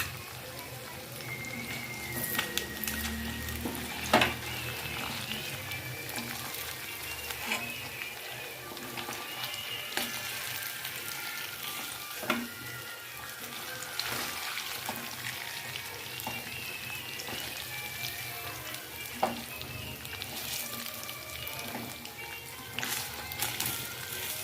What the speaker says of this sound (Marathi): आणि असे दुसरे पनीर आपण तळून घेणार आहोत.